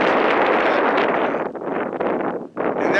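Gusts of wind buffet a microphone on a windy mountaintop overlooking Prescott, Arizona, a loud broadband rush that dips briefly and surges back, no talking.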